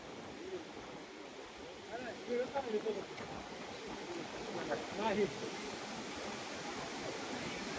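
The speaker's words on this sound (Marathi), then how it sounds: "एवढा मोठा प्रवाह इथं तयार झालेला आहे" Heavy water flow released from Terna dam rushes as a broad, steady wash of moving water, moderately distant, with faint voices talking intermittently over it.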